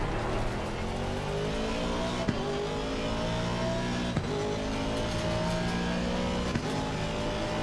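Race car engine at full throttle at Spa in the sim racing game Assetto Corsa Competizione, a loud, steady roar climbing in pitch through the gears with a few sharp upshifts, heard alone.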